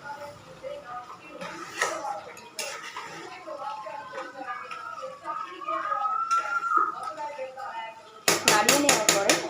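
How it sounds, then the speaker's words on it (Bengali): A metal spoon scrapes and clinks against a pan while Pakistani chicken curry with kasuri methi is stirred, soft intermittent scraping followed by a burst of sharp rapid taps at the end. "এবার এটাকে আবার একটু নাড়িয়ে নেব।"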